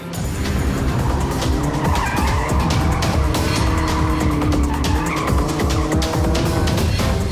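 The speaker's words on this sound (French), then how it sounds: "Les pneus crispent plus qu'avec toi." Tires squeal continuously as a car drifts hard on a track, the loud screech layered over a roaring engine throughout, with no talking.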